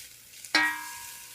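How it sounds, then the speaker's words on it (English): Turmeric being stirred into hot oil for a Durban-style chicken curry, a quiet sizzle broken by one sharp metallic clink of a spoon against the pan, which rings and fades. "Going to stir that a little bit just to coat it with the oil."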